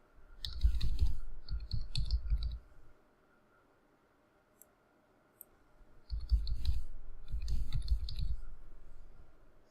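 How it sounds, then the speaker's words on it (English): Typing on a computer keyboard in two clusters of quick key clicks, close and fairly quiet, separated by a few seconds of near silence with a single faint click. "here is where you will type in your information"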